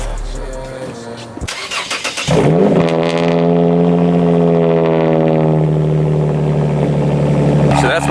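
A Lexus IS350 fitted with an aftermarket exhaust cranks and fires up in 27-degree cold, settling from a brief starter whir into a loud, steady idle close by.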